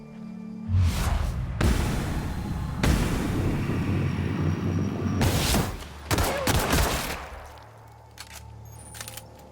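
Rapid bursts of video game gunfire aimed at an enemy, loud, dense volleys of shots with short pauses between them, then tailing off into quieter scattered fire near the end; no talk.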